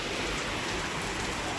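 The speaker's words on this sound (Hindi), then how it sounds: "बारिश देखो, रिमझिम बारिश आ गई है।" Light drizzle falling outdoors, a dense, even hiss of fine rain that stays steady and unbroken for the whole moment, with no talking.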